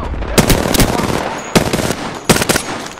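Automatic weapon fire in the Apex Legends video game: three loud, close bursts of rapid shots, each trailing into a short echoing decay, with brief gaps between them and no speech.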